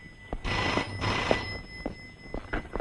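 A red landline telephone bell rings in a film scene, with two loud, bright trilling bursts followed by shorter rings, close and clear with no talking over it.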